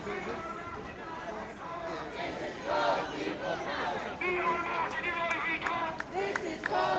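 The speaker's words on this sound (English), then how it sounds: "We have some people applauding the marchers" Onlookers at a cost of living protest march in Cork applaud and cheer the marchers, a mix of clapping, shouts and crowd noise with voices chanting and talking throughout.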